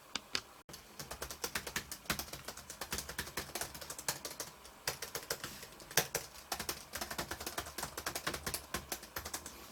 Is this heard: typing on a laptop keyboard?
yes